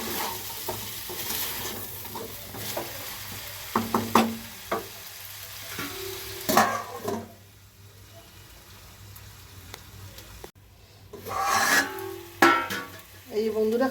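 Vegetables being stirred gently in a pan, with scraping and shuffling strokes over a low sizzle, loudest in a few bursts and then a quieter stretch before more stirring near the end.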